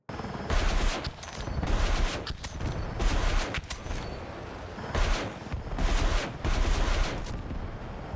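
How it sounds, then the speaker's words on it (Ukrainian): Helicopter rockets fire in Battlefield 6 in loud, rapid volleys, several bursts of sharp blasts separated by brief gaps, with rumbling low-end booms under each salvo. "під час пострілу вилітає у нас дві ракети, які мають досить непогану зону ураження"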